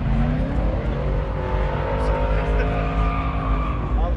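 Tires squeal steadily on an S2K at a car show event, a loud continuous screech layered over engine roar and crowd noise, close to the microphone and unbroken for several seconds.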